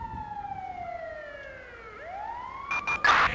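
An ambulance siren in the GTA V LSPDFR police mod, a wailing tone sweeping slowly down and then back up, fairly faint and alone, followed by brief bursts of yelp-like siren and engine noise at the end.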